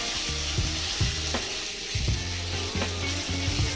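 Chopped tomatoes softening in a pan, bubbling and sizzling steadily up close, with faint occasional clinks, no voices.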